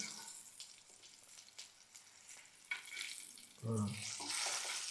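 Thick-skinned chilies fry in a pan with a soft, uneven sizzle and scattered pops, and the sizzling swells louder near the end as the pan is stirred.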